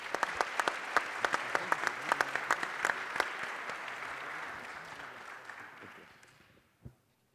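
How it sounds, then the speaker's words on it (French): Audience at a French economic conference applauds a departing speaker: fairly quiet, moderately dense clapping with some distinct sharp claps, thinning and fading away near the end before a last lone clap. "Je pense qu'on peut l'applaudir."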